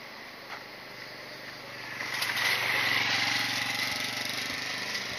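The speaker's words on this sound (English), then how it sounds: "Riding his scooter with a loud music." A scooter engine buzzes through a village, rising from a distant drone to a louder close pass partway through, then holding a steady rough hum as it moves along.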